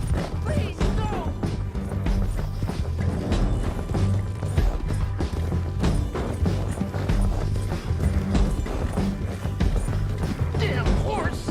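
Rapid, continuous hoofbeats of a horse in the video game Red Dead Redemption 2 pound in a galloping rhythm, loud and close, mixed with rattling and thumping noises.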